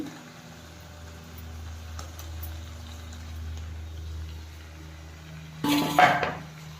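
Local chicken curry stirred in a pot on a low background hum, quiet at first, then a brief burst of close metal scraping and clanking near the end.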